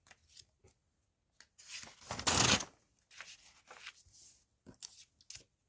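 Scissors trim excess paper from a handmade card, a close, quiet run of snipping and rustling with one louder swishing cut near the middle.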